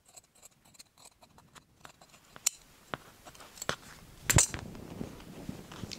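Scissors snip through upholstery fabric while it is cut around a panel for a high-back chair, giving a run of soft, close, irregular cuts with a couple of sharper, louder snips near the end.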